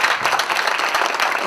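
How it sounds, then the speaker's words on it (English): Brief burst of steady applause from a crowd, dense and even clapping at a moderate distance. "I wanted really, really to make a big applause to Natalia Otti"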